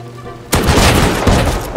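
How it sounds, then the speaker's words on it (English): Shotgun traps in the video game Rust go off with a sudden loud blast, followed by a dense, sustained burst of booming gunfire that lasts over a second. "Shotgun traps!"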